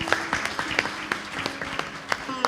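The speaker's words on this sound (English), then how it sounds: "Give them a wonderful round of applause" Audience applause at a Sunday service in a Hindu mandir, welcoming two first-time visitors: a moderate round of scattered hand claps with distinct sharp individual claps, steady through the moment.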